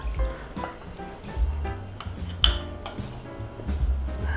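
Milk pours and splashes into a bowl of sliced pork with faint drips, a few soft clinks of utensils, and low background rumble.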